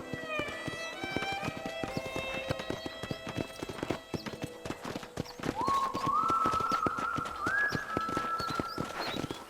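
Steady hooves clip-clop along in a quick, even rhythm near a ranch corral in the video game Red Dead Redemption, with a horse's whinny rising partway through, all over light background music.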